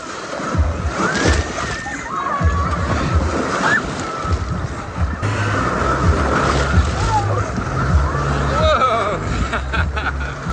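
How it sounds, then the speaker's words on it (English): Waves surge and slosh in a water park wave pool, with repeated rushing splashes under a constant background babble of crowd voices. "You can see a permanent structure they added to the wave pool. And the waves are coming in."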